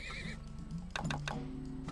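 Horse neighing in the video game Turmoil, a single clear whinny rising and falling across the clip over steady background game music, with no talking.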